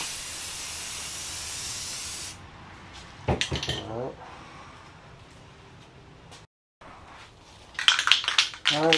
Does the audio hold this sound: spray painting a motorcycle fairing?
yes